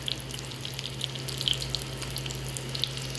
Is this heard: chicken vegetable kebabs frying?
yes